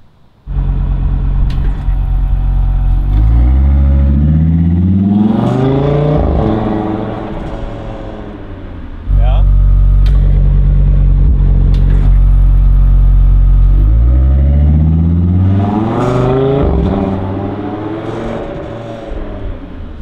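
Audi RS3 8Y with a CETE active exhaust valve system pulling away, loud engine note rising through the gears, with the tone shifting sharply as the exhaust flap opens and closes, close and powerful with no talk.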